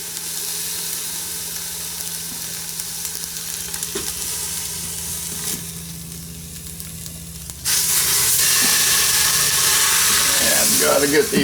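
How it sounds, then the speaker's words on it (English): A pork roast sears in an Instant Pot with a steady sizzle and light hiss, a few soft knocks as it is handled, then a sudden louder burst of frying near the end. "I want to sear the entire outside so I can keep as much moisture inside as possible"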